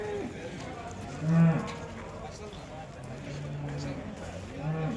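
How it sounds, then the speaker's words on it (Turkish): Yearling bull calves at a Kırıkkale livestock market give two deep, drawn-out moos, one loud and close, the other softer near the end, over steady crowd chatter and people talking nearby. "22 tane erkek dana."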